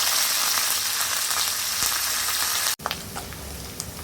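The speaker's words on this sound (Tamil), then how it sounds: "வெங்காயம், பச்சை மிளகா, கருவேப்பிலை எல்லாமே நல்லா வதங்கிருச்சு." Steady crackling sizzle of onions, green chillies and curry leaves frying in hot oil, with a brief cut midway and then continued popping and spattering up close.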